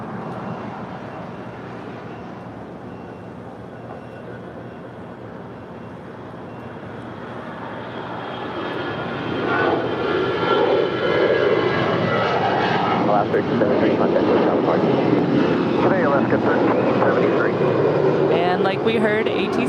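Alaska Airlines A320, about ten years old, taking off at LAX: a steady jet engine roar that swells sharply about halfway through and holds loud to the end, with talking heard over it.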